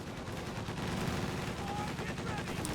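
Repeated cannon fire from a StuG E assault gun in Company of Heroes 2, mixed into dense battle noise with overlapping shots and explosions.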